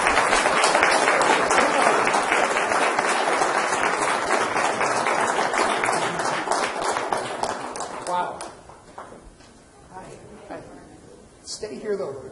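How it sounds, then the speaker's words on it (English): A round of applause at a city council meeting, dense clapping from the chamber audience that holds strong for several seconds, then tapers into scattered claps and murmured talk before a brief final burst. "can we give them a big round of applause"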